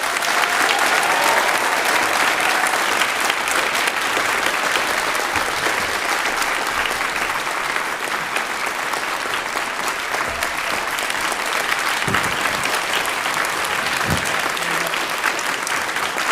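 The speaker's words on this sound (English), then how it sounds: "if we could just give a huge round of applause to Mr." Sustained, dense clapping from the audience at a school spring choir concert. It fills the whole stretch at a steady, loud level without letting up.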